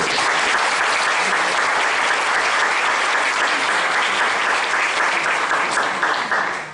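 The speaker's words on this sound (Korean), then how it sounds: "우리 아이들을 위해서 다시 한번 큰 박수." Sustained loud applause from a Lutheran church congregation during a Sunday service, honoring the children after their singing; steady dense clapping throughout, fading slightly at the very end.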